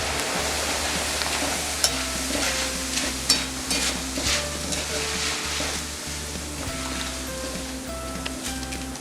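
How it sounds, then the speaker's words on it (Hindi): Poha frying in hot oil sizzles loudly and continuously, with stirring scrapes and a few clinks over a low steady hum; no one speaks. "इस तरह से हम फ्राई कर लेंगे पोहा को।"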